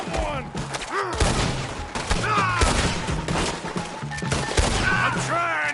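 A shootout in the video game Red Dead Redemption 2 brings dense, continuous gunfire with thuds and crashes, while characters shout over the din throughout.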